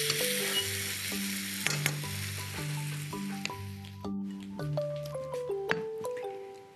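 Zucchini softening in a frying pan sizzle steadily while being stirred, with crackling and occasional scraping close up, all under melodic background music.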